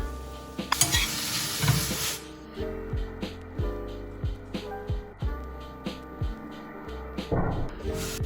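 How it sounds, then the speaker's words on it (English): Pancetta sizzles in a pan for pasta all'amatriciana, a steady crackle beneath repeated close stirring scrapes and clinks of utensil against the pan, with a louder spattering burst near the start. "Let's put the pancetta to cook."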